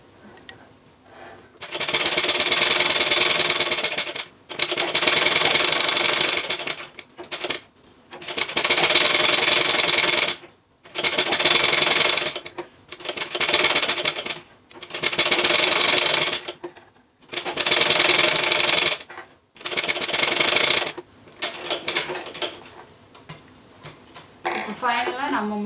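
Sewing machine stitching a sleeve hem, running in six loud, steady bursts of a few seconds each with short pauses between, close up, no voices.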